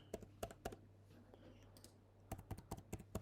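Computer keyboard being typed on to enter a password, quiet close key clicks in a short burst, a pause, then a faster run of keystrokes over a low hum.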